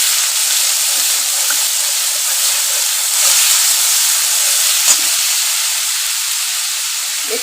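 Garlic paste hisses and sizzles in a little white oil, a steady broadband frying hiss throughout with a few faint utensil taps, no talking.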